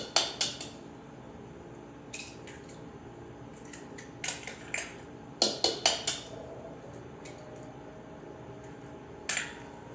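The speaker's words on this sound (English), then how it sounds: "We're going to crack the eggs, and what's nice is now you have this extra bowl to put the shells in" Three eggs cracked one at a time into a bowl, shells set aside in a second bowl: a handful of sharp, quiet taps and clicks come in small clusters, separated by near-silent pauses.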